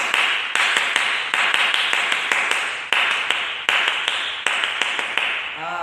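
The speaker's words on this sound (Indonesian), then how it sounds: "kita akan melakukan ice breaking, yaitu tepuk pramuka." A classroom of students performs the Indonesian scout rhythmic clap (tepuk pramuka), with sharp, unison claps in a repeating patterned rhythm, loud and close, with no talk over it.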